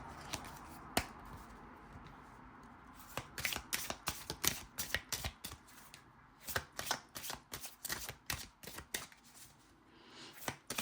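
Tarot cards being shuffled by hand during a reading, a steady run of crisp riffling slaps and flicks at close range, quick and irregular, with no talking over them.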